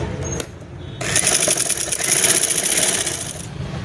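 A sewing machine stitching through folded fabric for a kurti, giving a brief whir, a short pause, then a sustained, steady mechanical run of close, fast stitching that stops abruptly near the end.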